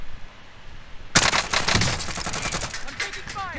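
Gunfire in a multiplayer shooter game: after a quiet stretch, a sharp burst of rapid automatic shots breaks out and keeps rattling in quick succession, with voices faintly underneath.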